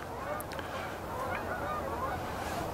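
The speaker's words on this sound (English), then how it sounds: "I've seen a handful of geese" Geese honking repeatedly at a moderate distance, calls overlapping over a steady outdoor background rumble.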